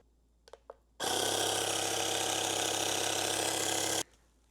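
A steady, loud mechanical whir with a low motor hum starts abruptly after a couple of faint clicks, runs continuously for about three seconds, then cuts off: an electric car-wash sprayer building up pressure.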